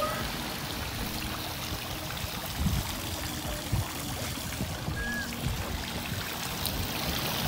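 Water flowing and lapping at a beach in Manzanillo, Colima, a soft continuous wash with a few faint thuds, quiet and steady beneath occasional background voices.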